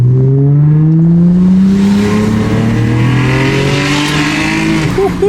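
A 2008 Honda Accord V6 with a cold air intake revving hard close by, pitch climbing steadily as VTEC engages, loud and sustained.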